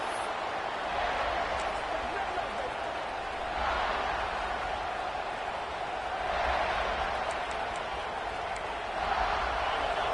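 Crowd roar at a college football game, the South Carolina vs LSU matchup in NCAA 26, a steady distant wash of stadium noise with gentle swells, beneath a commentator's voice.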